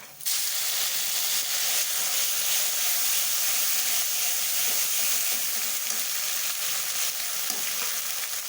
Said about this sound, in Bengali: ফোড়নে একটু হিং দিয়ে দিলাম।